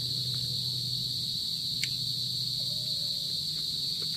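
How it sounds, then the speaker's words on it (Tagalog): Crickets chirp in a constant shrill drone close by in the Philippine countryside, a steady high trill with faint background noise and no talking. "pasensya na sa kuliglig no, maingay siya."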